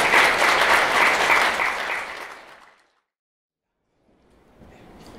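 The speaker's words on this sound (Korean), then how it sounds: "큰 박수 부탁드리도록 하겠습니다" Wedding guests applaud in a hotel ballroom with a dense, loud burst of clapping that fades out into silence, then a softer round of applause begins again.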